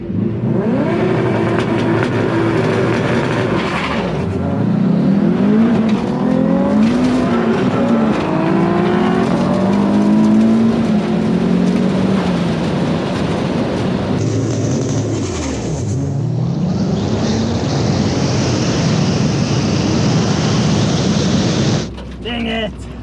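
Cars, including a Toyota Supra, launching down a drag strip, engines screaming up through gears with rising pitch and shifts, loud and close, then a second high-revving pass fading near the end.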